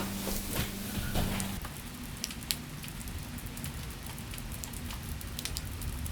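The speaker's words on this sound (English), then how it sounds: "Started raining. It's like so cozy." Steady rain patters down on a surface, a constant hiss with scattered drips, alone without voices.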